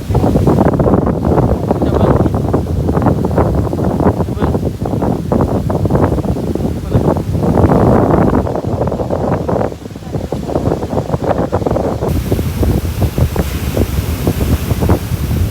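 Strong seaside wind buffets the microphone with continuous roaring gusts, and waves surge underneath throughout, loud and close.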